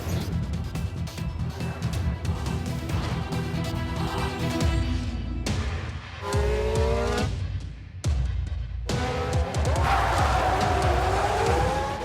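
Red Bull RB10 Formula 1 cars at speed around the Red Bull Ring, loud engine roar with rising and falling pitch as cars pass and shift, a few abrupt cuts between passes, no talk.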